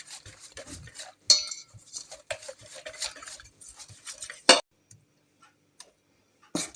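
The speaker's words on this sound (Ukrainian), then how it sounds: "і замішаємо нашу опару." Rhythmic scraping and clicking of a spoon stirring a thick flour starter dough for cabbage pies in a bowl, close and steady, with a few louder knocks against the rim.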